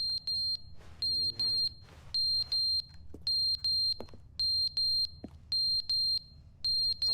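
Smoke detector in the video game The Stanley Parable sounding a regular pattern of shrill paired beeps, loud and close, with brief soft noises in the pauses.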